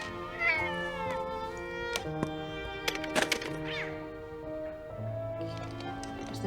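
A cat meowing inside the video game Telling Lies, several drawn-out, wavering meows close by, mixed with a few dull thumps and knocks.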